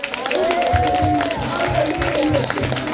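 A church congregation at a Christmas joint worship service applauds, steady rhythmic clapping blended with crowd murmur, filling the room, while a voice rings out over it.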